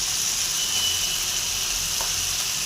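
Salted, spiced food being stirred in a hot frying pan: a dense, constant sizzling hiss, close and fairly loud, with a faint scrape of stirring partway through.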